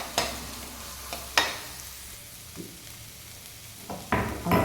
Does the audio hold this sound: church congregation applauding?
no